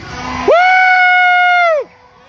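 Loud sustained shout of a parade crowd, a single held whoop-like cry rising sharply, lasting about a second and a half before cutting off.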